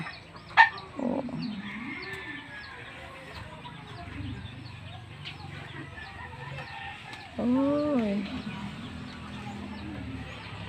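Backyard chickens being fed by a grandmother, with scattered clucks and a rooster-like call rising now and then over quiet farmyard ambience, plus a brief exclamation from a person.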